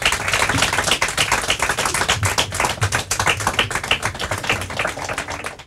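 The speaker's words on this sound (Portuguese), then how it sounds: "Palmas para eles, para as nossas 4 equipas." An audience applauds four school teams at a Portuguese-language quiz competition, a dense, lively clapping that runs throughout and thins out just at the close.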